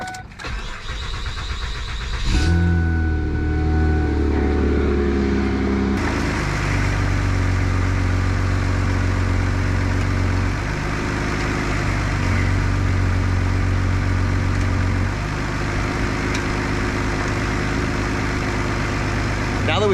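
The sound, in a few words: Ford Fusion engine starting and idling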